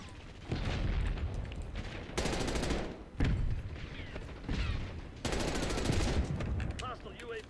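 An automated turret in Black Ops 6 on the Nuketown map firing loud bursts of rapid gunfire, several sustained volleys separated by brief pauses, with game voice lines in between.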